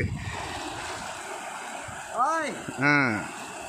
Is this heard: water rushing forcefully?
yes